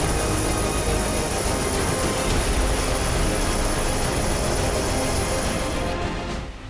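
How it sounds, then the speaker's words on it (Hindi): A B-1B heavy bomber roars with its jet engines, a loud continuous broadband rush with a high whine on top that holds steady and eases slightly at the end. "इसके इंजन इतने शक्तिशाली हैं कि एक छोटे से रनवे से ही ये भारी भरकम बॉम्बर आसानी से उड़ान भर सकता है"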